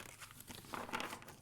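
Tarot cards being shuffled, soft crinkly riffling and papery rustles, faint and close, with no talking.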